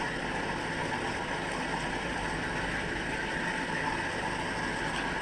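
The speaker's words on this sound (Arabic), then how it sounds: "اهي الغساله شغاله اهي بالشكل ده" A washing machine hums steadily through a cleaning cycle while heating its water, a continuous low mechanical drone with faint rattling and no voices.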